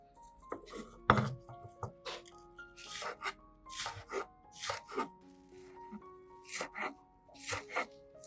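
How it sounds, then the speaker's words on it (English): Knife chopping green onions on a board, a series of soft thunks and scraping rubs in uneven bursts, fairly quiet, with faint tonal music underneath. "While waiting, I chopped up the green onions."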